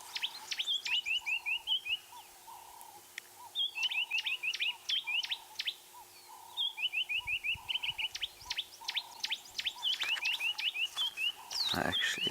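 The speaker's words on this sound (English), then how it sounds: "It is a green-backed Cameroptera, that is correct." A green-backed camaroptera calls in bush at sunrise, repeating quick bursts of high, sharp chirping notes in regular groups over a faint, steady hum, with a brief rustle near the end.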